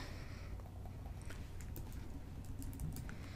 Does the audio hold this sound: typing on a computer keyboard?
yes